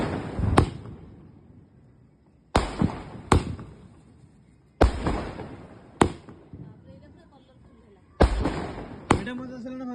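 Firework shots from a 120-shot cake go off in sharp bangs, six or so spaced over ten seconds, each trailing into a fizzing crackle, with voices chatting in between.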